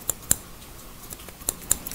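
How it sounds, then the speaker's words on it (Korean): Hairdressing scissors snip through hair during a mohican haircut, a series of crisp, close metallic clicks spaced irregularly, with a couple of snips coming in quick pairs over quiet room tone. "가위 던김에, 그냥 가위로 할게요."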